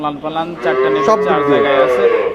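A medium-sized dairy cow at a Bangladeshi dairy farm moos in one long, loud, close call with a rich harmonic tone that holds steady, then slides and wavers toward the end.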